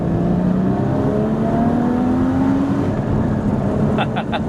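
A Porsche 981 Cayman GT4 engine pulls hard under acceleration, a loud, steady rising drone with climbing pitch, a brief dip near the end as it shifts, heard close and alone.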